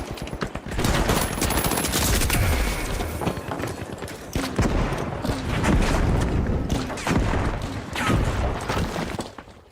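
Dense automatic gunfire and grenade blasts from an arena shooter match, near and loud with continuous bursts and impacts, no talking.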